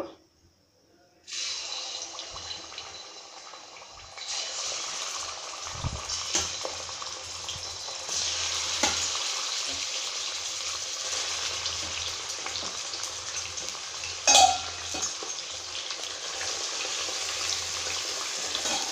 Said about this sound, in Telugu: బాగా బ్రౌన్ కలర్ వచ్చే వరకు వేయించుకోవాలి.